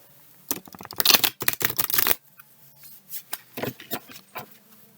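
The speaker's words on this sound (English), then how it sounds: "I'll give a riffle shuffle." Tarot cards are riffle shuffled: a fast burst of flutter and snapping, followed by softer scattered clicks as the deck settles and is squared.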